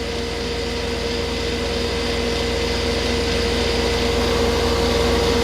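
A 1994 DeLonghi 40-pint dehumidifier runs continuously with a steady fan whoosh over a low motor hum and a faint tonal whine, close and unchanging throughout.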